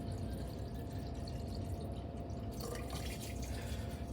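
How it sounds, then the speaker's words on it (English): Water drains down through a plastic p-trap, a soft steady trickle and gurgle with faint drips that grows slightly brighter toward the end. "It's going down the drain, and I see no leaks."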